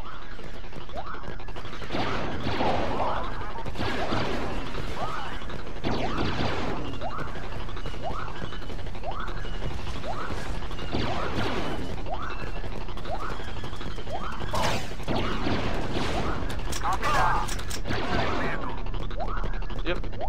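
Star Wars Battlefront 2 blaster fire, with rapid, repeated zapping laser bolts ringing out in quick succession over a constant loud battlefield din of impacts and explosions.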